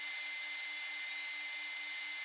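Power sander fitted with two soft pads working a spalted hackberry natural-edge bowl on a lathe, giving a steady, continuous high-pitched whir with a faint constant hum underneath, close and even throughout.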